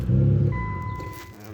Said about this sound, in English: Starts no problem. Car is obviously a little bit loud at the moment